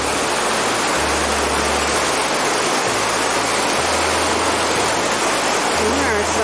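Whitewater rapids on a mountain river in the San Gabriel Mountains, a steady, dense roar of rushing water that fills the whole clip without pause, with a low rumble underneath that comes and goes.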